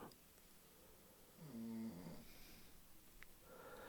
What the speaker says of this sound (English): He's snoring away, so I think he's sleeping.